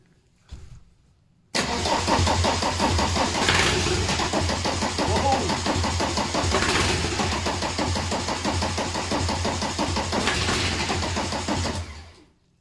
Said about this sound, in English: let's just give it a little shot of easy start. It's not going to start, but it'll kick.